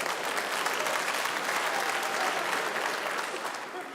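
An audience in a cultural centre theatre applauds steadily, a dense wash of clapping that holds for several seconds before beginning to fade, with some voices mixed in.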